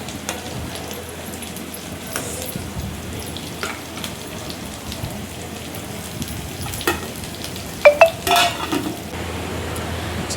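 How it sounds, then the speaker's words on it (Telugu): Tomatoes being stirred and mashed in a pot of simmering tomato rasam give a soft, continuous bubbling sizzle, with a few sharp clinks of a metal spoon against the pan near the end, close by and without talk. "వీలైనంత వరకు టమాటా కొంచెం మెత్తగా అయ్యే వరకు కొంచెం స్మాష్ చేస్తూ కలుపుకోండి"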